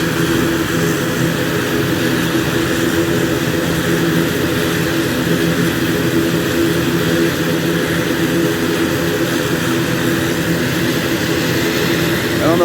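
An older ATR turboprop airliner taxis with its engines running, a loud, steady propeller drone with layered tonal hum and constant rushing noise, close and unbroken for the whole stretch.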